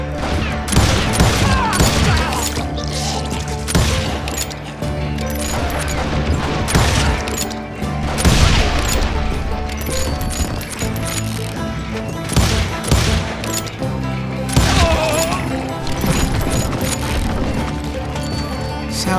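Hired guns open fire in the Call of Juarez Gunslinger video game, a dense, loud, continuous barrage of gunshots and crashes over game music.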